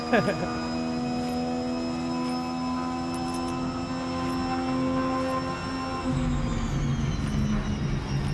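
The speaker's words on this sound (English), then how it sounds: "Sounds like a plane." A loud, droning plane-like engine from a car in the Forza Horizon 6 racing game, holding steady harmonic tones for about six seconds before the pitch drops and shifts, with background chatter underneath.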